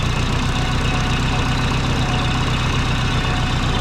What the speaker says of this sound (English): That little Jetson sound is actually the breather. So that's from the scavenger pump.